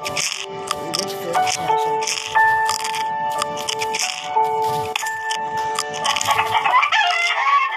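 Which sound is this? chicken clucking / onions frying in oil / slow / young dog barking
chicken clucking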